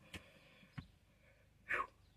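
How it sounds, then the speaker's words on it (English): A single sharp sneeze bursts out near the end, preceded by a couple of short, quiet sniffs or breaths. "I knew the sneeze was coming"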